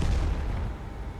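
A cannon panzer tank fires its main gun in a tank video game, a loud, heavy boom with a sustained low-frequency rumble that fills the whole short moment.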